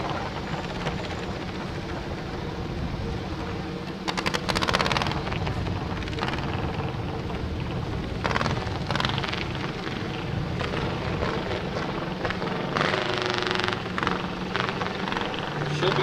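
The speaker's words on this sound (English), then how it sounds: "Adeline Gorgas next up on track number 1 on her Cub Cadet." A Cub Cadet garden tractor's engine roars continuously at a club garden tractor pull, a loud droning motor with crowd and outdoor noise behind it.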